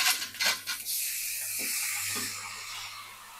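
Meat dropped into a pan of fried onions sets off a steady, loud hissing sizzle that starts with a few sharp spits and crackles, then settles into continuous frying, with no voices.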